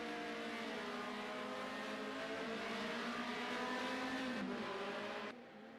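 Race car engine in a racing video game, a sustained loud droning note that rises and dips through gear changes and revs, continuous and close, dropping off near the end, with no talking.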